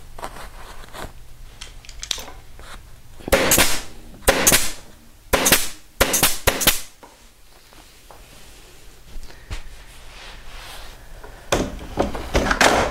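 An upholstery staple gun fires staples through fabric on a chaise, a series of sharp close snaps in clusters with handling noise and rustling between them.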